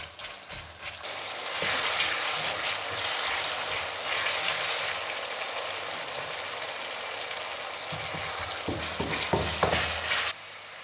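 Onions fry in a pan for a chicken intestine dish, a dense, even sizzle with occasional stirring scrapes, close and continuous.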